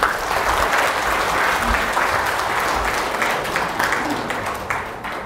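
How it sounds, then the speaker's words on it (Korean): A lecture hall audience at a public history talk applauds loudly and steadily, a dense wash of clapping that tapers slightly near the end. "이덕일 소장님께서 힘찬 응원의 박수 다시 한번 드립니다"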